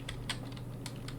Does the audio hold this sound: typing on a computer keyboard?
yes